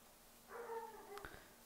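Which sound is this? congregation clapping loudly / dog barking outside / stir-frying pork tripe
dog barking outside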